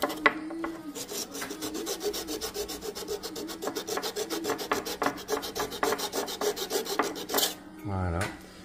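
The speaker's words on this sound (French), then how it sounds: "je vais mettre un petit coup de ponçage" Wood treated with a Rubio finish is hand sanded as cladding over a concrete lintel. Close, quiet rasping strokes repeat in a quick, steady rhythm, with a brief rub at the end.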